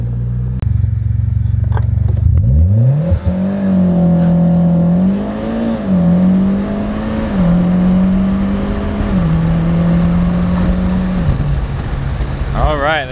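A car launches hard from a standstill. Its engine roars up close and rises in pitch through several stepped gear changes before dropping back at the end.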